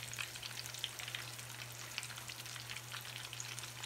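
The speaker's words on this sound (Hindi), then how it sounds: "इसी तरह हम सारी फिश को फ्राई कर लेंगे।" Fish fries in hot oil in a home kitchen, a dense, even crackle and sizzle with scattered sharper pops over a low steady hum, with no talking.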